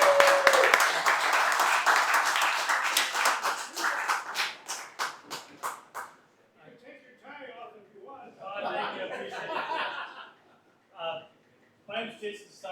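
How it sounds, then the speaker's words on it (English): An audience claps in a burst of applause for about six seconds, then the applause fades and people begin talking close by. "give a round of applause"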